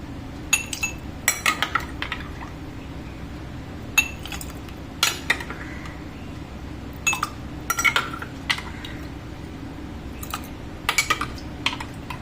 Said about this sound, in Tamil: கலந்துட்டு நுங்கு சப்ஜாவதை எல்லாம் போட்டு சூப்பராக ஊற்றிடலாம்